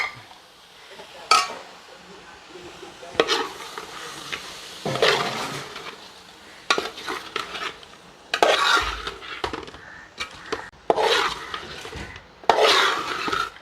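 Chicken pieces with small bones are tipped into a cooking pot and stirred, giving close, intermittent scraping, rubbing and clattering of a utensil against the pot, with quiet talk in the background.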